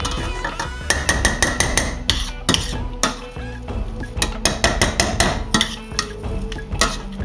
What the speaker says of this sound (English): I've got my old trusty masher. We're going to mash that all up, all together